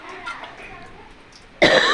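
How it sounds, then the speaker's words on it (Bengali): A single harsh cough bursts out loudly near the end, following a stretch of quiet kitchen background while lentil dal cooks. "ভীষণ কাশি হয়েছে"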